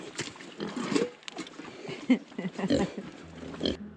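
A pig grunts and snorts in short, irregular bursts while chewing a mouthful of apple, close up and fairly loud, with brief chomping sounds between grunts.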